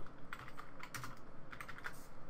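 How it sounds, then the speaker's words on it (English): Someone types on a computer keyboard to test it, producing a steady run of close, crisp key clicks in uneven bursts, with no voices. "So you can test your keyboard."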